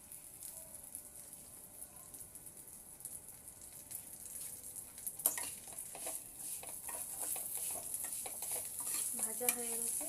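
Raisins fry and get stirred in a pan of oil while semai payesh is made: a quiet, low simmering sizzle with scraping spatula strokes that grow busier and more frequent in the second half.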